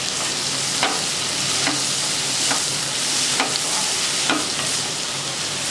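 Onions and chopped tomato sizzle in a pan with a constant frying hiss, while a utensil scrapes through them in regular strokes about once a second, close up and with no talking.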